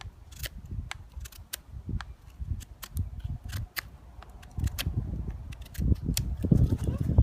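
Fallkniven F1 knife blade cutting and processing wood outdoors, producing repeated sharp clicks and scraping strokes over a low rumbling background, growing louder toward the end.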